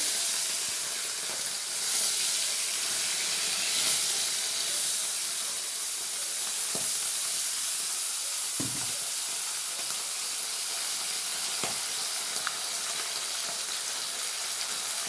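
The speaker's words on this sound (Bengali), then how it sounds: "মাছগুলো ভেজে নেব।" Bata fish frying in hot oil in a home kitchen, a steady, even hiss of sizzling that holds for the whole stretch with a few soft knocks from the pan.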